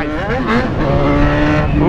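An XJ6 motorcycle engine roars and revs up close, its pitch climbing and falling in quick bursts, with voices talking over it.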